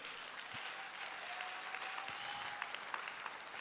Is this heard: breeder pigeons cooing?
no